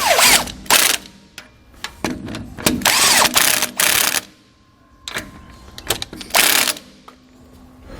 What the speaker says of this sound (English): We can now go back and tighten down our bolts with our 13mm socket.